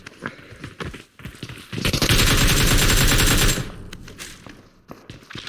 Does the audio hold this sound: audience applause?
no